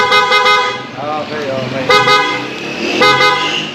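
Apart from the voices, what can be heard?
PIAA horn on a Honda ADV 160 scooter honking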